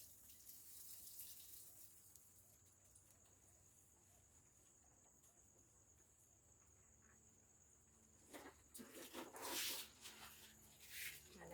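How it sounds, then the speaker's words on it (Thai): Water is poured out of a bucket outdoors, heard as a few splashy gushes toward the end after a long stretch of faint crickets and insect hum. "เดี๋ยวเราเทน้ำออกก่อนเนาะ"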